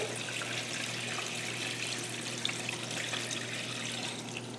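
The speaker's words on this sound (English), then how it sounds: "pour the kombucha through the sieve" Kombucha strained through a sieve into a bowl makes a steady soft trickling, liquid pouring continuously at low volume with a faint hum underneath.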